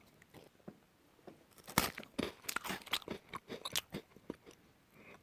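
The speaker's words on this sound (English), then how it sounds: "So we're trying these biscuits, and I need an audio sample here of the crunch." Biscuits being eaten down in a mine survival shelter: a quiet start, then a series of sharp, close crunches and chewing bites, irregular and dense, with no talking.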